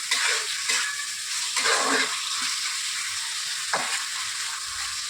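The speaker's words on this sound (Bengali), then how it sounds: "আমার মশলা কষানো থেকে তেলটা ছেড়ে এসছে" Spice paste for Bengali doi katla fries in oil once the oil has separated, a steady close sizzle with brief stirring scrapes, no voices.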